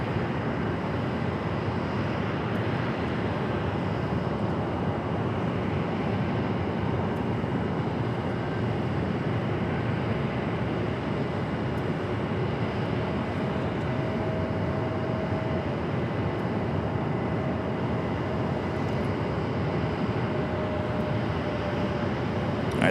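An airliner takes off from runway 25 right at Phoenix Sky Harbor, a steady broad jet roar heard from a distance that holds constant throughout, with no talk.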